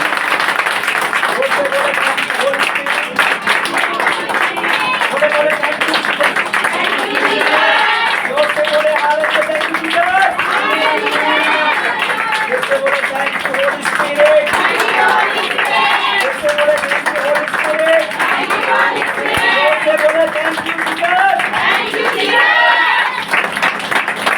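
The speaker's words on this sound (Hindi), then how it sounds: "जोर से ताली बजाकर उसका धन्यवाद" A church congregation claps loudly and continuously in thanks, a dense, steady patter of many hands. A preacher's voice carries over it, and the sound stays strong and close throughout.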